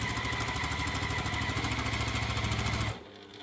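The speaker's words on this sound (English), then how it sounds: "Once I've got them connected, I just hold that in place, again, no pins, and I sew down." Sewing machine running steadily while stitching quilt pieces together without pins, a loud continuous mechanical whirr with rapid rhythmic needle pulses that stops abruptly near the end.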